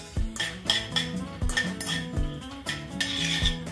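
Mustard seeds and cumin are stirred in a hot pan with a spoon, giving repeated clinks and scrapes of metal against the pan in an uneven rhythm, close and fairly loud, with no talking.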